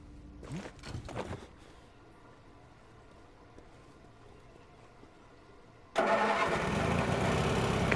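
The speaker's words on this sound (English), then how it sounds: "Better sort the lights out. There's a generator in the toilets." A generator in a toilet block in the video game Zombi starts up: some faint clatter, then a sudden loud engine that catches and settles into a steady, continuous running drone.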